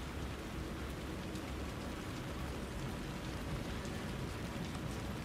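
Rain falls steadily in the video game Alan Wake 2, a soft, even hiss of drops on surfaces, faint and unbroken throughout with no talk.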